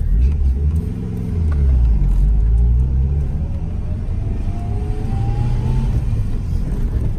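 A 1997 Subaru driving straight ahead, its engine rumbling low and steady with a gradual rising whine as it picks up speed, heard from inside the car with no talk.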